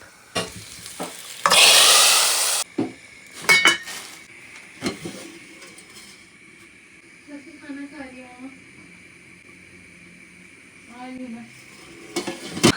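Dal tadka frying in a hot pan: a loud burst of sizzling lasts about a second, then stirring scrapes and utensil clinks follow, while someone talks quietly in the background.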